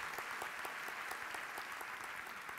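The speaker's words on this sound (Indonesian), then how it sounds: "Tepuk tangan buat Tuhan." Congregation applauding during a church thanksgiving service, a thick, continuous burst of clapping from many hands at steady loudness throughout, with no speech over it.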